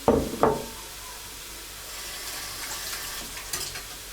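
Chopped vegetables for cabbage soup fry in a pan, opening with two sharp stirring knocks before a soft, steady sizzle hisses alone in the background.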